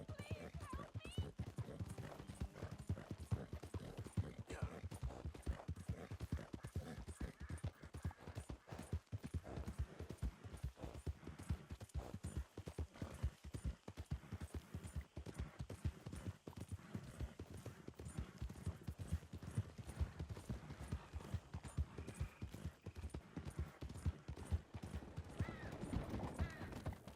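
Horse hooves clip-clop in a steady trotting rhythm while riding in Red Dead Redemption 2, close and continuous under game ambience, with occasional voices and a brief whinny.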